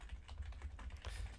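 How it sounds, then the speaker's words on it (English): Quick, soft keystrokes on a computer keyboard patter in a brief close burst over a low room rumble. "I need to be typing down names"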